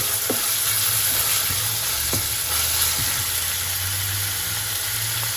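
Food frying in olive oil in a pan for samosas and spring rolls, a loud, steady close sizzle with occasional clinks of stirring, no talk.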